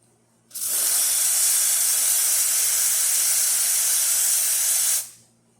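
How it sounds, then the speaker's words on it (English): The steam wand on a Profitec Pro espresso machine lets out one loud, steady hiss lasting about four seconds, then cuts off abruptly. "So let's test the steamer."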